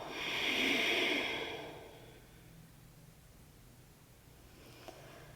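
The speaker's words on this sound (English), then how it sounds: "deep breath out." A single deep exhale during yoga relaxation rushes out softly and close, then fades into quiet room tone.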